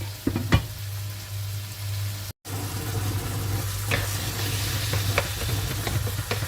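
Minced meat cooks in a pan while a utensil stirs through it, producing a close, steady sizzle with a low hum beneath, scattered scraping knocks and a brief dropout partway, no voices.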